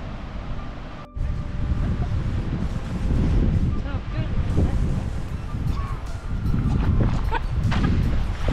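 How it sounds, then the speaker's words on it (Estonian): Strong wind buffets the microphone outdoors before a canoe trip on the Võhandu river, producing a loud, continuous rumbling roar with gusts that swell and dip, while people talk and call faintly underneath. "Maru hull tuul on täna."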